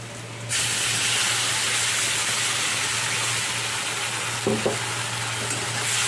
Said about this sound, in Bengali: পেঁয়াজটা ভাজা ভাজা হয়ে যাচ্ছে এর মধ্যে আমি এবার মশলাটা দিয়ে দিচ্ছি